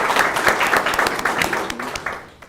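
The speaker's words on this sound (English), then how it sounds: "I'd like to ask us to appreciate our facilitators with an applause and clap." Audience applause at a university intellectual property sensitization training, a dense burst of many hands clapping together that starts full and gradually thins and fades toward the end, with no talk over it.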